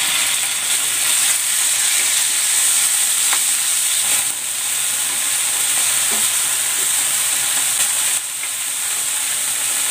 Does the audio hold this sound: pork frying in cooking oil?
yes